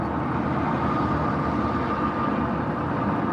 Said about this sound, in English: Hit the Jakes. Oh no, man, y'all don't want to hear them Jakes. They might be a little loud.